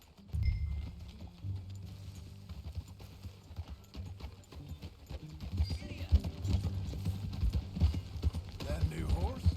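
Horse hooves clip-clop steadily through a Red Dead Redemption 2 ride, a loose rhythmic trot close by, growing busier toward the end while a voice speaks over it.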